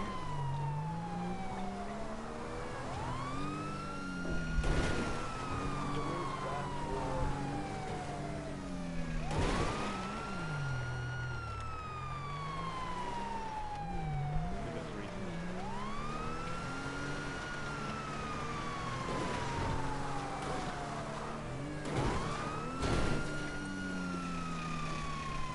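Police car siren in a video game, wailing loudly and continuously through rising and falling sweeps, with brief crashes and thumps breaking in at intervals.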